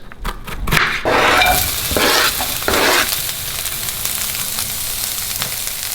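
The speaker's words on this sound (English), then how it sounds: "Let that sizzle in there like so." Food sizzles steadily in a hot pan while a utensil stirs and scrapes through it in bursts, close and loud.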